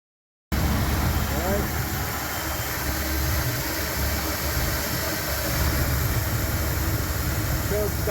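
A Chevy C10 engine with a freshly rebuilt carburetor, choke about half on, runs steadily after starting, giving a loud, continuous low rumble with broadband noise that holds level throughout, with no talk over it.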